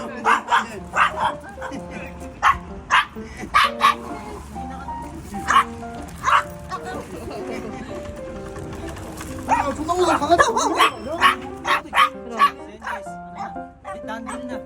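Small dogs barking and yipping in quick, sharp bursts close by, with excited whimpers between barks, while people talk throughout.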